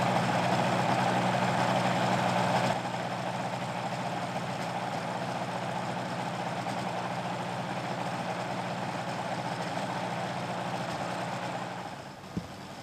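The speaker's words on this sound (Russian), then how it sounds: "Стершат стали выгуливать рядом с работающим мотодельтапланом, чтобы они привыкали к шуму мотора." A motor hang glider engine drones at an idle-like pitch for the whole stretch, loud and constant, with a slight drop in level partway through.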